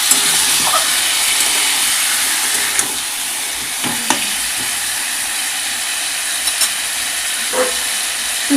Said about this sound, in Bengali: এবার এটাকে ভালো করে নাড়াচাড়া করে ভেজে নিতে হবে